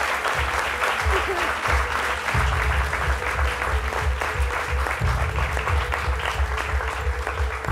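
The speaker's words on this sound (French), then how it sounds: "Oh, c'est quoi ces applaudissements?" Studio audience on a French midday television show breaking into sustained applause, dense clapping over a low rhythmic music bed, with a faint voice now and then.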